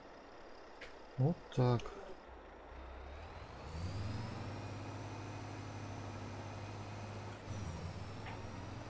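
Kirovets K744 tractor engine in Farming Simulator 22 starting up after a couple of brief clicks, then settling into a steady low idle rumble with a faint whine, with someone speaking quietly at the start.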